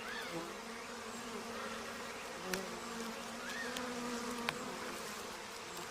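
Wild bees hum around a partly harvested honeycomb in an Indian monsoon forest after smoking, a steady, close swarm drone with a few faint sharp ticks and no speech.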